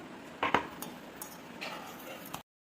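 A spoon clinks and scrapes against a bowl while chocolate cake batter with sugar is stirred, giving a few sharp taps and then softer scraping, with a quiet voice now and then in the background.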